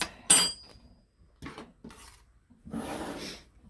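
Spoon stirring a flour mixture in a bowl for biscuit cinnamon rolls, with a sharp clink followed by several scraping, rasping strokes close up.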